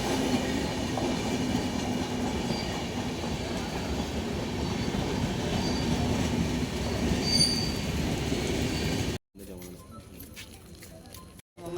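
A MEMU commuter train gives a continuous loud rumble with rattling wheels and a squeal for about nine seconds. The sound then drops away abruptly, leaving quieter sparse noises.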